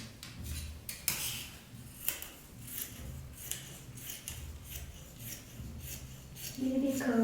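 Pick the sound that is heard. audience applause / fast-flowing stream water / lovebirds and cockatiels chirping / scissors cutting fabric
scissors cutting fabric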